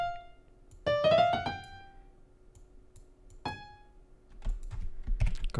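Keyboard shortcut presses on a computer while editing a piano melody in music software. Soft clicks cluster near the end, and sustained piano-like notes ring out earlier.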